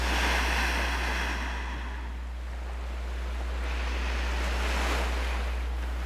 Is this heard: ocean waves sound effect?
yes